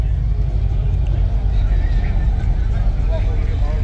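A Chevrolet Monte Carlo with a twin-intake engine rumbles loudly and steadily at idle, a deep constant drone at a car show, with faint crowd noise mixed in.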